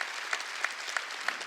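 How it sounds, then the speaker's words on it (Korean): Church congregation at a Wednesday worship service clapping hands in a steady rhythmic beat, about three claps per second, with sharp accents, moderately loud and without speech. "박수 치라"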